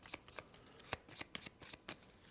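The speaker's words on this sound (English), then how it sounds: "We're going to take the fishing deck and give it a good shuffle." Fishing card deck from the Stonesaga board game being shuffled by hand, a quiet rapid series of papery riffles and snaps close to the table, with no talking.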